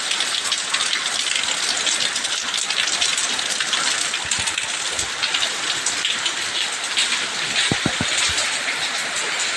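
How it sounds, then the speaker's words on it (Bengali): Heavy rain pours steadily on a rainy day in Bangladesh, a dense continuous hiss of drops drumming on surfaces with a few closer splats, loud and unbroken with no voices. "এই যে বৃষ্টি কি পরিমাণ নামতেছে, ভিতরে পানি চলে আসছে।"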